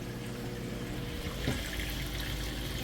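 Water pours out steadily from a Whirlpool washer as its drain cycle runs, a continuous rushing flow that swells slightly midway and holds at a constant, fairly loud level throughout.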